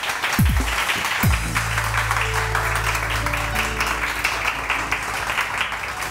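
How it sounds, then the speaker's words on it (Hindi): Studio audience on a Pakistani morning talk show bursts into sustained, dense applause for a panelist, loud and continuous throughout, with music and tonal effects playing underneath. "इनके लिए बहुत सारी तालियाँ।"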